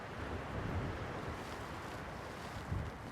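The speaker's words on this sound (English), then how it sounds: "Wind's really starting to pick up right now." Steady wind gusting over open water on a lake in Maine, a broad continuous rush with low buffeting against the microphone and a brief stronger gust near the end, no voices.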